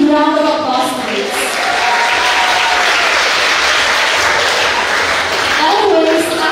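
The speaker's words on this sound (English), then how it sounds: "let's give ourselves a big round of applause, please." Audience at an IT-BPM scholarship program graduation giving a loud, sustained round of applause, dense steady clapping with a voice heard briefly at the start and end.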